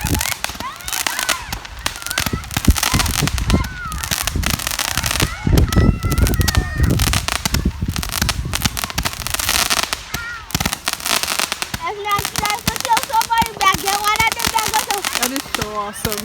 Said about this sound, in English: We are going to see the fireworks.